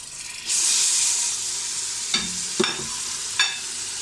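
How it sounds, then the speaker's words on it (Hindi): A sharp burst of loud sizzling as garlic ginger paste, tomatoes and green chillies hit hot oil for keema matar, followed by steady frying with a few clanks of stirring. "टमाटर और लहसुन अदरक को थोड़ा सा ऑयल में भून लेंगे"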